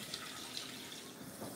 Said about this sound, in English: So now I'm about to, I'm rinsing the chicken off.